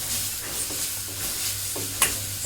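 Ingredients fry in a hot pan with a constant bright sizzle, while a spoon stirs and scrapes a few times and gives one sharp clink of metal near the end.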